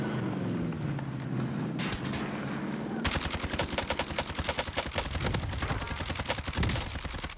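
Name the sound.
gunfire and missiles in a video game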